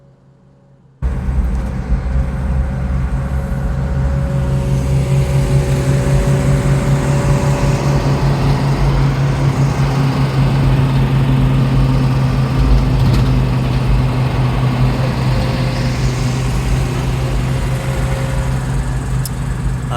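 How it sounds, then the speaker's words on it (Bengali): A sleeper bus engine drones continuously from inside the cabin, with a loud, low, steady rumble and faint tonal hums that begin abruptly after a second of quiet and persist throughout, with no talking. "আমি এ পর্যায়ে আপনাদের ইঞ্জিনের যে সাউন্ড সেটা আপনাদের একটু শোনাতে চাই যে কীরকম সাউন্ড আসলে"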